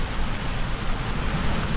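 Steady rain falls in a dense, even hiss with a low rumbling undertone, loud and continuous, with no voices.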